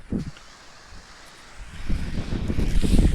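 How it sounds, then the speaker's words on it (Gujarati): Cold wind gusts across hills, buffeting the microphone in rough low bursts, with one short gust at the start and a stronger sustained rush building in the second half. "વાદળો એટલે પવન આવે છે ઠંડો ઠંડો"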